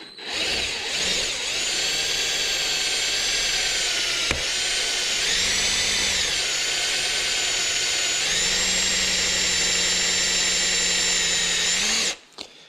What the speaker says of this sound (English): If you have a good drill bit, these are going to go right through.